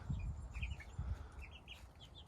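Young meat chicks in a backyard coop beside a log cabin workshop cluck and chirp in short, scattered bursts, fairly close and moderately loud, with no talking.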